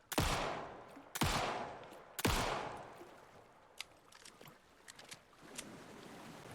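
Gunfire in Alan Wake 2: three loud, sharp shots about a second apart, each ringing out with a fading tail, followed by fainter scattered pops and clicks.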